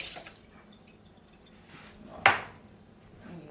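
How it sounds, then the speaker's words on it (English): Hot water splashes into a pot of homemade vegetable soup in a home kitchen as one sharp, short pour-splash midway through. Faint kitchen background noise runs before and after, and no one talks. "I'm going to add that hot water that I was telling you about that I have boiling over there."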